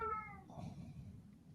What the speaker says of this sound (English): It's Jude's cat. It sounds like it's talking.